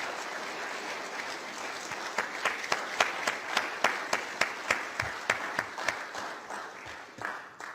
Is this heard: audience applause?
yes